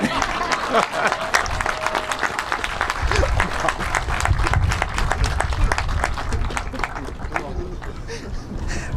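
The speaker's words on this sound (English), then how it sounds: "Please put a round of applause together for the man of the hour, AJ." A crowd at a groundbreaking ceremony for a Humboldt Park housing development applauds, close and sustained with sharp individual claps, and people chatter underneath.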